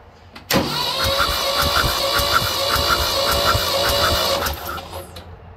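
A Ford T9000 tractor engine cranks over with a compression gauge fitted. The starter churns in a steady, rhythmic chug for about four seconds, starting and stopping abruptly, close and fairly loud.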